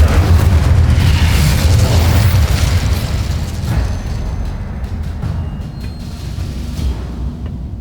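An Incendio fire spell exploding in Hogwarts Legacy, a loud, deep booming blast that rolls into a crackling, fading rumble over several seconds.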